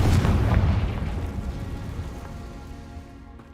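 Bombarda and Confringo spells blast in Hogwarts Legacy, opening with a heavy, loud explosion that decays into a long crackling rumble of scattering debris, fading out over a few seconds.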